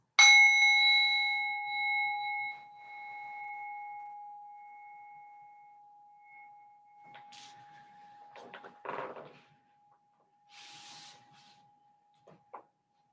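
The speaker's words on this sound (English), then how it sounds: "I'm going to ring the bell now to officially open up our session." A meditation bell struck once to open a restorative yoga session rings out clearly and decays slowly over about seven seconds. Soft rustling and movement sounds follow once the ringing fades.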